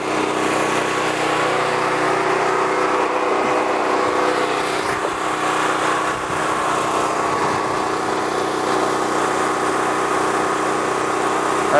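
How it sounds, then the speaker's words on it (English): A portable emergency generator engine runs at a steady warmed-up idle, a loud, close, continuous mechanical drone with no talking. "So once your generator is warmed up, you can go ahead and plug that in."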